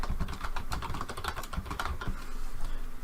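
Quick, uneven clatter of keys typed on a computer keyboard, close and soft, in short rapid runs.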